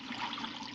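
Water poured from a height into a pan of potstickers with oil in the bottom, a brief steady splashing rush close by with no talk.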